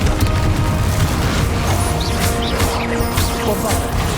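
A Confringo spell blast in Hogwarts Legacy, dense booming combat noise filling the clip with loud, continuous explosive rumble and clattering effects, with voices mixed in.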